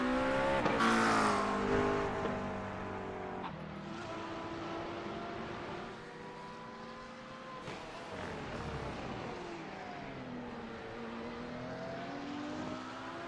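A GT3 race car runs at Laguna Seca, engine tone sweeping up and down through gear changes as it passes, moderately distant and steady over about thirteen seconds, with no talk.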